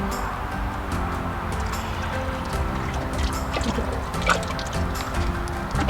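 Soft lapping and trickling of water close by, a steady wet splashing with faint background hum.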